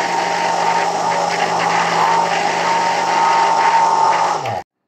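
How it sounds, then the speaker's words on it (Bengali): A blender whirs steadily, loud and close, churning cold coffee with coffee powder, then cuts off abruptly near the end, with no voices. "কফি পাউডার ব্যবহার করার পর আরও 1 মিনিটের মতো ব্লেন্ড করে নিব।"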